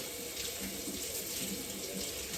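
Warm tap water runs steadily from a kitchen faucet into a sink or glass while bread dough for a Hefekranz is being prepared, a soft continuous splashing stream with no talking.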